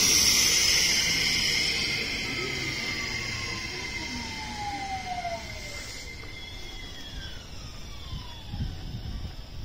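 A JR 225 series 100 train pulls into Uozumi Station, its motor tone rising and falling across the whole stretch alongside a steady hiss and rumble, with a high whine sliding downward as the train slows at the platform.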